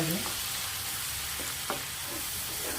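Spices crackle and sizzle in hot oil as a phodni tempering for dal is prepared, a steady, close frying hiss with a few sharper pops running throughout, and no voices.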